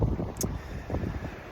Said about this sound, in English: I didn't know it was going to be so windy, so sorry about the wind in this video